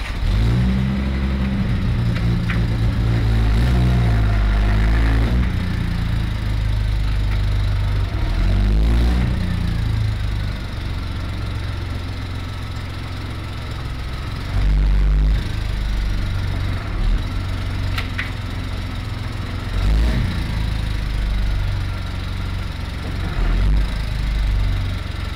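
A 1973 Triumph TR6 engine runs steadily and fairly loud while the car is being parked, with a few small rises in revs over the low, continuous rumble.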